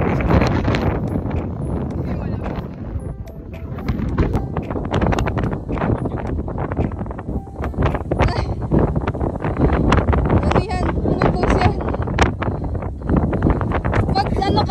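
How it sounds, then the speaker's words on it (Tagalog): Heavy wind on Mt. Gulugod Baboy buffets the microphone steadily throughout, a loud roaring rumble with people talking underneath it. "Nakikita ko dito medyo mahangin siya pero okay naman."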